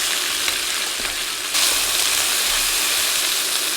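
Garlic, ginger, lemongrass and jalapenos sizzle steadily in a hot pan, a dense, even frying hiss that swells slightly louder partway through and continues alone without talk.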